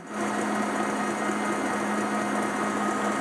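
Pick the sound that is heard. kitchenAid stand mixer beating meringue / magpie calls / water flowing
kitchenAid stand mixer beating meringue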